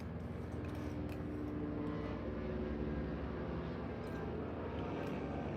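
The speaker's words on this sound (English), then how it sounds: "the police been chasing Mexicans around here with the chopper" A police helicopter flying overhead in a residential area, a steady distant rotor and engine rumble that holds an even level throughout with no talking.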